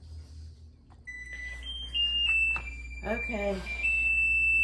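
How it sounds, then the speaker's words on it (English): Kitchen oven timer going off while bread dough proofs, a series of high electronic beeps and tones over a steady appliance hum, with a person speaking briefly. "Timer's going off"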